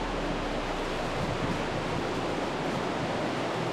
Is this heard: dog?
no